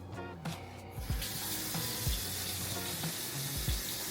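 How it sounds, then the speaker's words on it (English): Hands washed under a running kitchen sink faucet, a steady close rush of water with a few soft splashes and thumps as hands move through the stream. "First, before I get started, I'll wash my hands a little bit."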